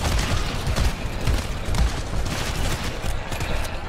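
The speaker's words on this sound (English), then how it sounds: "Oh shit, I'm getting friendly fire from the sentries." Sentry turrets in GTFO pour out rapid automatic gunfire, a dense continuous rattle of shots and thuds, loud and close with no pauses.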